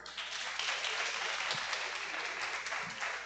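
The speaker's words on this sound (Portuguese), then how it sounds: "Uma salva de palmas, gente." Audience applause fills a talk event on diversity in academia, business and traditional media, a steady dense wash of many hands clapping throughout with no voices on top.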